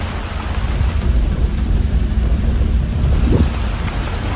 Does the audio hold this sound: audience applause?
no